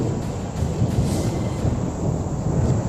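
Artillery shelling in the Mariupol war zone comes through as a loud, continuous, rumbling roar that barely lets up, with no distinct gaps between blasts and no voices.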